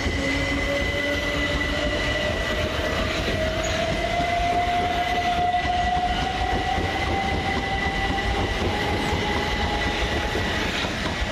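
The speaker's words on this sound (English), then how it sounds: "Departing with the 1319 Southern Railway service from London Victoria to Littlehampton is 377438 and" A Southern Railway electric train, class 377 units, departs Preston Park station with a rising motor whine over continuous rumbling wheels and rail noise, close and steady throughout.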